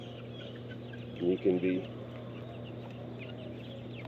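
Backyard chickens kept in a chicken tractor cluck in a short burst of three quick calls against a steady low hum, while a person talks nearby.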